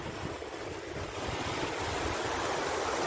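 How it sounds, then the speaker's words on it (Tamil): Sea waves crash on a beach, a continuous roaring surf with a steady wash that swells slightly louder toward the end, mixed with wind rumble on the microphone and no talking. "அந்த கடல் அடிக்கும் போது அந்த ஓசை வருது"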